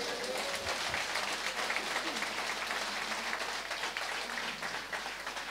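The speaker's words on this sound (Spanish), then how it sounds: "Un fuerte aplauso a Jesús." A congregation at a church service bursts into sustained applause, a thick, even wash of clapping that carries on without pause for several seconds, with faint voices underneath.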